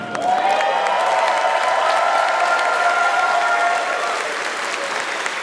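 Audience at a convention closing ceremony giving a loud, sustained round of applause, dense and even throughout with a faint tonal background, easing slightly toward the end.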